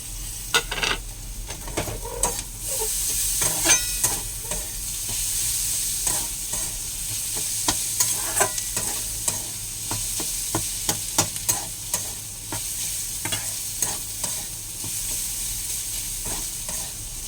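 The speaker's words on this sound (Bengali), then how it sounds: "টমেটোটা দিয়ে একটু ভাজা ভাজা করব।" Tomatoes fry and sizzle in a pan under steady, near stirring, with repeated sharp scrapes and clicks of a utensil against the pan throughout.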